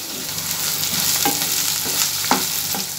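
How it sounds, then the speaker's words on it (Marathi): Ginger garlic paste sautéing with onions in a pan, a dense steady sizzle with a few stirring scrapes and a sharp clink near the end, close and without talk. "आलं लसूण पेस्ट ही चांगली कांद्याबरोबर परतून घेऊयात."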